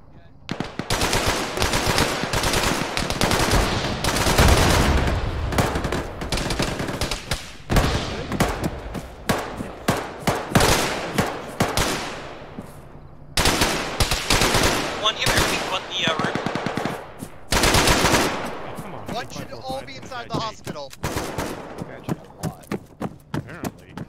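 Arma 3 combat with dense bursts of machine gun fire and rifle shots, loud and close, in rapid rattling volleys with brief pauses, ongoing for the whole stretch.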